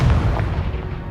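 A Confringo blasting spell detonates in a wizarding video game, one short heavy low boom with a rumbling tail, close and alone.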